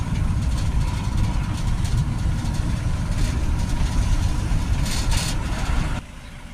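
A Citroen Relay 2.2 diesel van drones on a test drive, a loud, steady low engine rumble with road noise that drops to a quieter level near the end.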